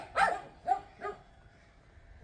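A dog barks three times at a passerby, short sharp yips spaced about half a second apart, moderately close and otherwise quiet.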